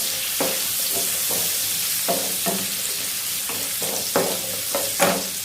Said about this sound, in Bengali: গাজরটা একটুখানি ভাজা ভাজা করে নিই হালকা করে।